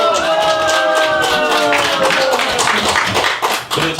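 Warm applause and clapping from a concert audience at a 5.18 memorial event, dense and sustained for the full span with a bright tone lingering over it, thinning slightly near the end.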